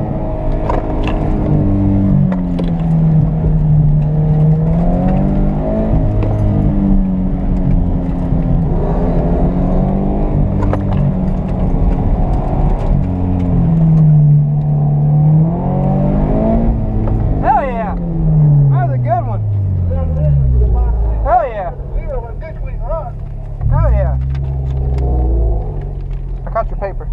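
A 2017 Rocket Bunny 86 on an autocross run gives a loud, steady engine drone heard from close up, rising and falling through repeated revs and gear changes.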